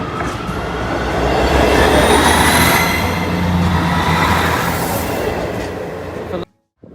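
A top-and-tail sand train rolls past a level crossing at Brayford, a loud, close, sustained rumble of wheels and engines with some high squealing, ending abruptly.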